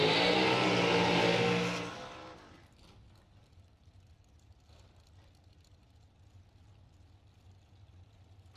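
A dragster roars loudly off the line in round one of a bracket drag race, then the engine noise fades fast into the distance, leaving a low, quiet rumble of the track afterward.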